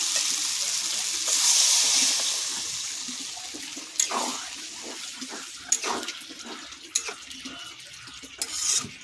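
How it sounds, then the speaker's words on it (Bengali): A small amount of water pours into a pan of potatoes, tomato and spices for a bhola fish curry, making a rushing hiss that eases into a softer bubbling simmer with a few clattering knocks. "এবারে জল দেব, অল্প করে জল দেবো।"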